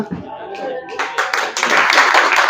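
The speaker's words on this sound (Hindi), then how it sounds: "जोरदार तालियों से इनका स्वागत करें।" Applause at an office farewell ceremony: a quiet stretch with some voice, then a dense burst of many hands clapping from about one second on, growing fuller and steady to the end.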